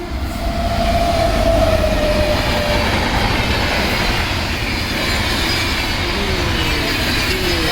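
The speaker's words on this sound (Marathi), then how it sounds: "इथनं तुम्हाला म्हणलं होतं रेल्वे वगैरे जाते ते बघितलं" A train rolls past on a double-track railway line, with a loud, steady rumble and rattle of wagons and wheels throughout, and a brief squeal near the start.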